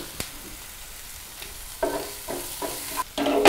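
Onions and curry leaves fry in oil in a pan for a Coorg-style pork fry, with a soft sizzle beneath a few scraping bursts of stirring that come close together near the end.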